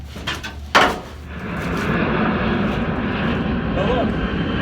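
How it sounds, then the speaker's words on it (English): A propeller airplane drones overhead during an outdoor teardown of a 1953 Ford F250, rising into a steady, loud engine rumble after a couple of nearby knocks and a short voice at the start. "Oh look, we have a plane"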